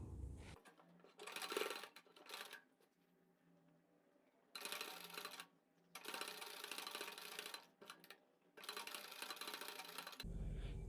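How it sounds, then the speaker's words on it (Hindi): A sewing machine stitches alongside the piping on a kurti's shower-style neckline, running in several loud, sustained bursts separated by short pauses, with no talk. "अब हम यहाँ पर पाइपिंग के बराबर बराबर सिलाई लगाएंगे"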